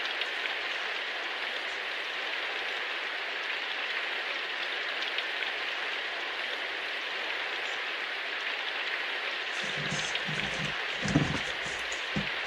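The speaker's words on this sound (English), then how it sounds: "The rain wasn't exactly heavy today, and we had both gotten used to living in this town, so it almost felt pleasant." Steady, moderate rain falls as an ambient loop in the visual novel game Symphonic Rain, an even hiss close and constant throughout, with some low thumps and knocks joining near the end.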